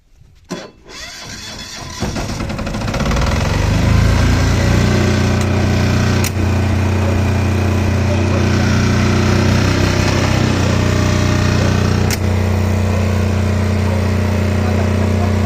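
A Mapro 8.5 kVA diesel generator starts up and settles into a loud, steady, close droning run with a low constant hum, continuing without a break.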